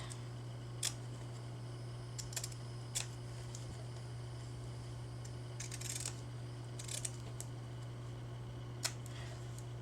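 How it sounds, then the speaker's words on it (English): Scissors snipping fabric in sparse, faint, isolated cuts during fussy cutting for a vintage lace journal cover, heard over a steady low electrical hum in a quiet room. "Bear with me while I fussy cut. Fussy cutting fabric."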